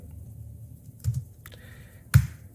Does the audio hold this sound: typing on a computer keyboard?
yes